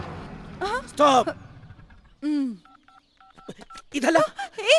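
A quick run of touch-tone dialing beeps, clear and close, set between stretches of people talking.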